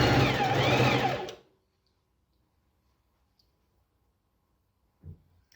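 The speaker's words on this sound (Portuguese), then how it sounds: "Agora, eu vou passar a costura definitiva" A domestic sewing machine runs a French seam on a kimono dress with an elastic waist, a fast steady whirring stitch for about a second before stopping, then quiet with a soft handling bump.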